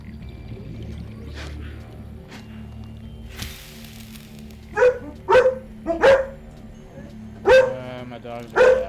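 A dog barks several times in short, sharp bursts, fairly close, over a steady background of game or stream sound, with a few separated woofs near the end.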